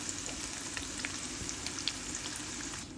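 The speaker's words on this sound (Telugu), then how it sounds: "సో ఇక్కడ నేను కొద్దిగా వెల్లుల్లిపాయలు వేసాను" Garlic sizzling in hot tempering oil for a South Indian vammu rice dish, a steady close frying hiss with small pops and crackles throughout, no voices.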